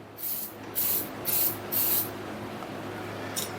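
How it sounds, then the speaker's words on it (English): A WD-40 aerosol can hisses into a cap in four short bursts, then a brief final puff, close and fairly quiet against a low steady hum of workshop machinery. "I'm just going to spray it into the cap here."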